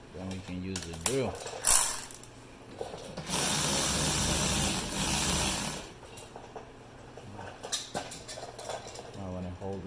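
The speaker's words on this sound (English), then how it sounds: "then we can use the drill." A power drill drives a screw during rear brake pad and rotor replacement on a 2007 Honda CR-V, a sustained whirring burst of about three seconds with short ratcheting bursts before it, close by, with people talking around it.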